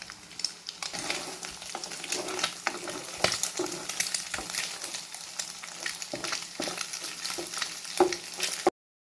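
Beaten eggs with salt stirred and frying in a pan, a steady close crackling sizzle with scraping stir strokes running throughout, no talking.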